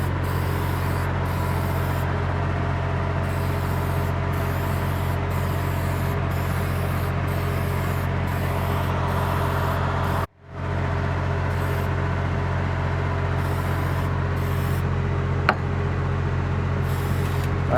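Steady hiss of a paint sprayer coating a wall light gray during a home renovation in Bakersfield, continuous and close with a constant low hum underneath and one brief pause partway through.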